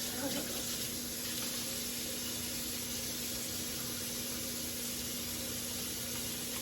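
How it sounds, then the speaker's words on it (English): Hands are washed under a running kitchen tap, a steady, moderately quiet rush of water that continues unbroken throughout. "Wash my hands."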